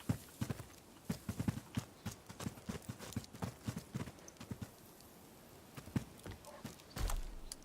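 Horse hooves clip-clop at a steady walking pace in the Viking-era video game Expeditions: Viking, fairly close and distinct, with a brief neigh or snort near the end.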